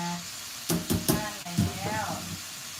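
Water bubbling and hissing at a boil in a pot of chicken soup, close by, with a voice talking over it partway through.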